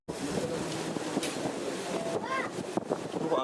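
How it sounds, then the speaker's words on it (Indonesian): Gusty wind buffets the microphone without a break at an open-air bull racing practice ground in Pamekasan, with faint voices beneath the loud rumble. "Angin."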